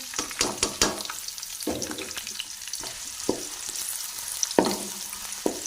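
Onions frying and browning in a pan, steady crackling sizzle broken by repeated sharp scraping stirs of a spatula, close and fairly clear with no talking.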